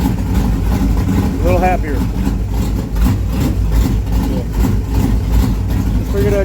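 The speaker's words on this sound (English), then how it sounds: "We'll see what it does to the idle." Isuzu Trooper engine idling after a lean-mixture tuning adjustment, a rough, low rumble that runs continuously under nearby talk.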